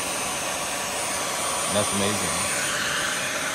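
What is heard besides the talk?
repaired Dyson V12/V15 vacuum cleaner running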